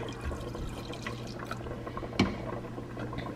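Milk being poured into a pot of thickening winter soup gives a steady, soft liquid pouring and trickling sound with a small splash partway through, close by and with no talking.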